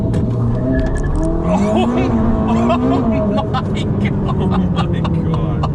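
A Ferrari SF90 launches hard under launch control, its engine roaring loud and close as the pitch sweeps up through the gears, with a brief startled exclamation over the engine.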